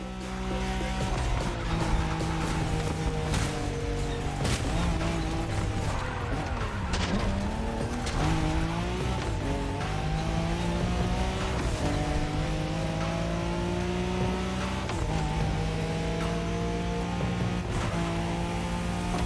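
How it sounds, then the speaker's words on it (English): A Nissan Skyline races in the video game The Crew Motorfest, its engine roaring continuously and climbing through gears, with repeated rising and falling revs and occasional tire squeal, loud and close throughout. "The Skyline is an icon. It's a powerful car that takes skill to control."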